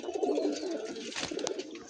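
Andhra Fulsira Tiplar pigeons sitting on eggs coo softly and continuously nearby, joined by a couple of brief rustles or clicks, with no voices.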